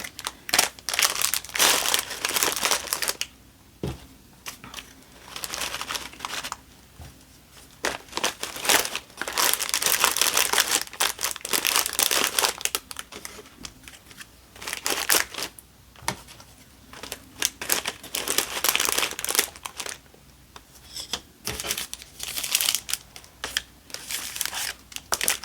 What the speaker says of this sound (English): I could do some like tissue paper and put them on top.